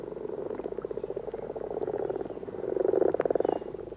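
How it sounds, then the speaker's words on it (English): A dense chorus of frogs croaks in rapid, pulsing trills, building in intensity toward the end, with no voices. "Their daytime chorus attracts other frogs, both male and female, to this pond."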